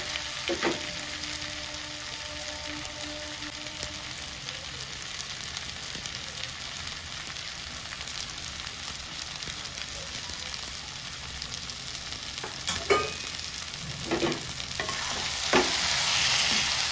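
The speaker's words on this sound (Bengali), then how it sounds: "এবার এটাকে একটু কষিয়ে নিই" Spiced potatoes for aloo dum being sautéed in a pan, a faint steady frying hiss with sparse stirring scrapes and a few sharper clinks toward the end.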